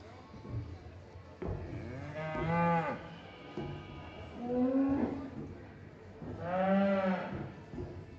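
Heavyweight steers at a livestock show championship lowing in three long, deep moos a couple of seconds apart, fairly close and clear over a quiet hall background.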